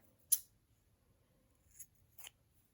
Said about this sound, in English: We're going to cut a strand of yarn.